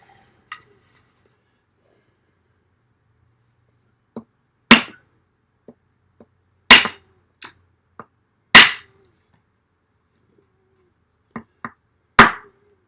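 A Kizer Pinch knife chopping through zip cord, several sharp isolated chops spaced a few seconds apart with lighter taps between, crisp and close against near silence.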